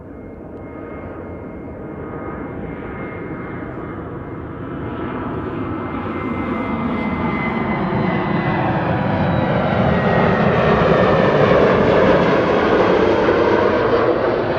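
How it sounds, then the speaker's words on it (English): A KLM Boeing 737 jet departs Amsterdam Schiphol Airport on a winter day, its engine roar building steadily from a distant rumble to a loud, broad thrust and then sustaining it. "And we have a 737 on its way to Aberdeen."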